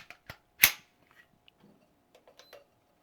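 Trigger pull on a Sig P365XL pistol measured with a trigger pull gauge: a sharp metallic click of the hammer releasing, followed by a few faint clicks and handling taps, close and otherwise quiet.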